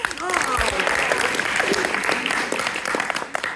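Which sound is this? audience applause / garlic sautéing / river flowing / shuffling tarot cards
audience applause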